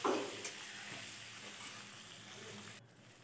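Spice paste with tomato and capsicum being fried for khichuri, a soft sizzle with a stir or splash at the start, fairly quiet and close, fading slightly toward the end.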